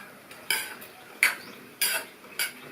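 Vegetable semiya upma with coriander leaves is stirred in a pan, giving four distinct, evenly spaced scraping clinks of a spoon against metal, close and fairly loud, with no talking.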